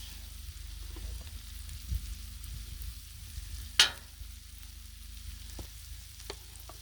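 Silver dollar pancakes frying on a Blackstone griddle during a Sunday brunch cook, a faint low steady sizzle with one sharp scrape or tap partway through and a few light knocks.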